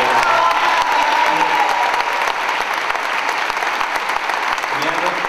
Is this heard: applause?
yes